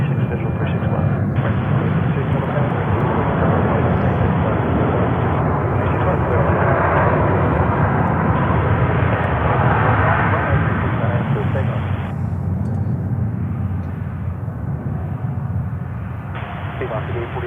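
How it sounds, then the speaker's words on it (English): A Spirit airliner takes off on runway 31 center at Charlotte airport, making a loud, steady, broadband engine roar that holds close and full for the whole stretch. "And Spirit taking off here on 31 center"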